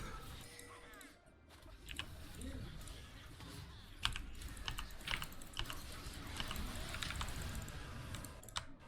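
Rapid clicking keystrokes on a computer keyboard go on steadily and close by, with faint background game sounds and murmuring beneath.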